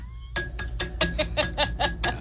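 A bright bell rings in a quick series of about eight rapid, evenly spaced strikes, close and clear, with no talking.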